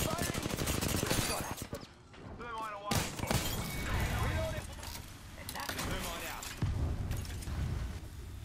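Gunfire crackles in Apex Legends in rapid bursts and scattered shots, mixed with effects and overlapping player talk throughout.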